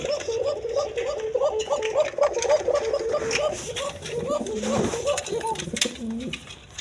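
A male and female pair of Koka pigeons coo in repeated soft, rhythmic phrases close by, the calls overlapping early on, while someone talks over them toward the end.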